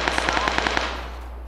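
A quick burst of about eight sharp gunshots fires in steady rhythm in PUBG, then fades into a lingering echo.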